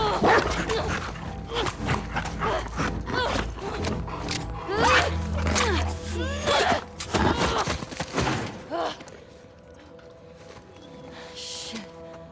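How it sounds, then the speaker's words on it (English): A dog in The Last of Us Part II barks repeatedly in loud, close bursts among other game sounds. The barking thins out toward the end. "Stupid dog."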